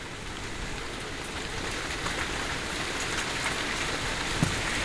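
Steady rain falls outdoors while a tornado threatens, a continuous broadband patter of drops on surfaces that holds even and close throughout with no voices.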